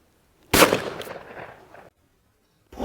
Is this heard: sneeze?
no